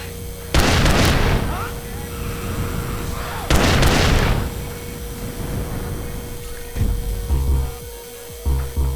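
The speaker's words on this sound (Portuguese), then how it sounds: "Olha o áudio da escopeta" Two heavy sawn-off double-barrel shotgun blasts boom out a few seconds apart, each with a rattling tail, over a steady electrical hum, followed by softer mechanical clacks, from a GTA V sound pack for GTA San Andreas.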